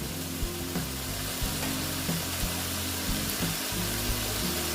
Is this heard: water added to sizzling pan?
yes